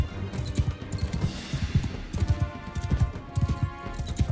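Horse hooves clip-clopping in a steady, repeated rhythm as a mounted rider moves across the field in Mount & Blade II: Bannerlord, close and fairly loud with no speech.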